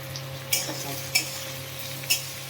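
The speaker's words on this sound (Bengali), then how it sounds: "পুরো লাল লাল করে ভাজতে হবে না, একটু হালকা হালকা করে ভাজতে হবে" Carrots and capsicum stir-frying in a pan for pasta: a steady close sizzle with three sharp scrapes of a spatula against the pan at regular intervals, no voices.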